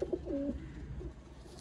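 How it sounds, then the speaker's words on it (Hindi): A pigeon gives a short, soft coo of a few low notes, close but faint against a quiet background. "ये कबूतर है"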